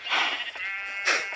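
Two close, loud sheep bleats a second apart at a football stadium, each a wavering nasal call standing alone without talk.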